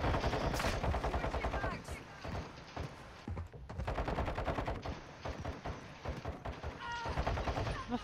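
Rapid automatic gunfire in Call of Duty Modern Warfare II, dense bursts of shots rattling almost continuously with brief pauses, fairly close and loud, with a voice speaking briefly among the shots.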